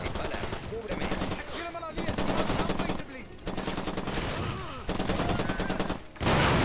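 Rapid automatic machine gun fire in the video game Far Cry 2, loud sustained bursts separated by short gaps, with faint talk mixed in.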